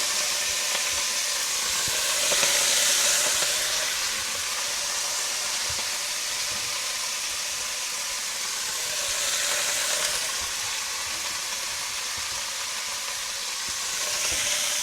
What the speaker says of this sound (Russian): Пока наша капуста будет немножко обжариваться